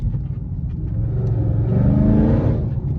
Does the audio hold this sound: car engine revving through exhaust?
yes